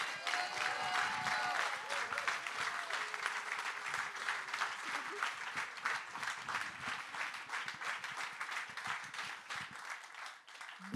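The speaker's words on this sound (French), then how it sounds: "je vous demande d'applaudir Laurence Ruffin." Audience at a political meeting in Grenoble applauds continuously for about eleven seconds, a dense, sustained roar of clapping that tapers slightly toward the end.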